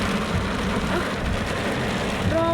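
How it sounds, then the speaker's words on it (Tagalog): Dense, steady hiss of heavy rain pouring down, loud and continuous throughout, with a faint tonal beep near the end. "Grabe itong ulan oh."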